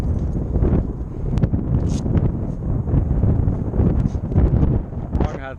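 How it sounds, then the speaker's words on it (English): Wind buffets a microphone outdoors on a rooftop during HVAC maintenance, a loud continuous low rumble that fills the whole stretch, with some faint rustling over it. "That wind is blowing up here."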